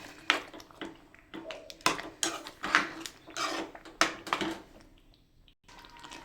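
Butter chicken being mixed in a pan with a spoon, repeated scraping and clinking strokes at an uneven rhythm, close and moderately quiet.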